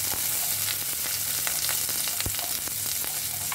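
Shallots, garlic and potatoes fry in oil with a dense, steady sizzle and faint occasional stirring clicks, close up and without voices.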